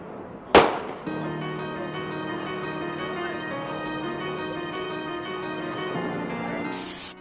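A single sharp gunshot cracks out early at a memorial gathering in Memphis, followed by a sustained outdoor hum of crowd and ambient noise.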